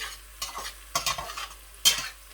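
Onions sizzling and being stirred in a pan while cooking keema rice, with a steady faint fry hiss and a few louder scraping stirs, no talk.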